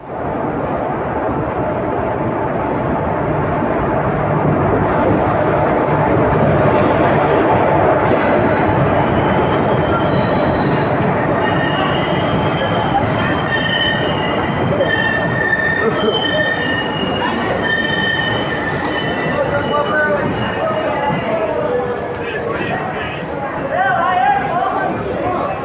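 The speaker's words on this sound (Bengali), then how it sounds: "ছেড়ে দিল বর্ধমান জংশন।" The 13159 Kolkata-Jogbani Express pulling out of Bardhaman Junction, a steady loud rumble and clatter of wheels on rail with some high squeals, while a person talks over it throughout.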